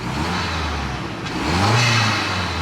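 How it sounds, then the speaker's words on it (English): Mazda Speed6 turbocharged engine revved while still cold, a steady idle drone that rises into a louder rev with a faint whirring whine, close by and with no talking. "Let's rev it, see if we can get some spoolie noises now"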